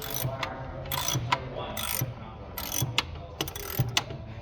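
A torque wrench clicks and ratchets as valve cover bolts are tightened on a 1985 Mercedes 380SL R107, with repeated close ratchet clicks and small metallic knocks in a quiet workshop.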